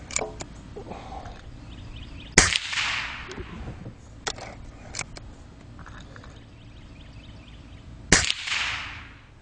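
A Gamo Hunter Extreme .177 air rifle fires Gamo PBA pellets, two sharp loud cracks several seconds apart, each trailing a brief hissing decay, with faint small clicks and handling noises between shots.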